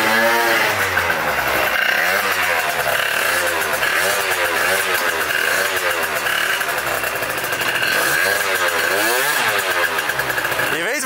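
A motorbike with an aftermarket exhaust runs close and loud, its engine holding a rough, throbbing idle with rhythmic surges and dips in pitch. The sound is steady throughout the whole stretch.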